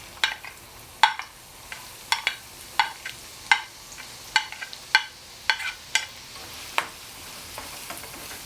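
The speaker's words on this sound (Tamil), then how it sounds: "இப்போ எண்ணெய் நல்லா சூடாயிருச்சு. இதில் நான் நறுக்கி வச்சுருக்கிற வெங்காயத்தை சேர்க்குறேன்." Chopped onions fry in hot oil with a quiet sizzle, broken by a steady series of sharp scrapes and taps as they are stirred in the pan, with no talking.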